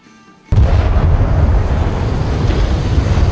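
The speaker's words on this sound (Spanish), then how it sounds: "la explosión del barco" A ship explodes with a sudden, loud boom that breaks from near quiet, followed by a heavy, sustained roaring rumble that fills the rest of the clip.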